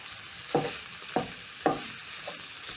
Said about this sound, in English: Using a spatula, I'm going to try and break the meat down as the meat cooks.